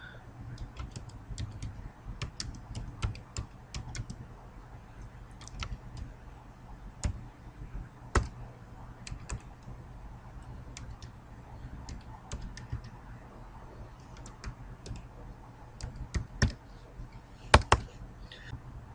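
Computer keyboard typing while entering text in AutoCAD 2016, sparse and irregular key clicks with a few sharper taps, fairly quiet and close, without talk.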